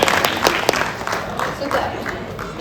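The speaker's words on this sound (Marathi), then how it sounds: "त्यांच्यासाठी जोरदार टाळ्या." A crowd claps loudly and briefly at a community gathering. Dense applause starts strong and slowly thins over a couple of seconds, with a voice faintly over it.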